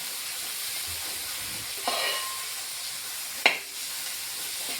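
Chopped onion, curry leaves and rice frying in a pan for prawn roast, a steady close sizzle broken by two sharp scraping stirs.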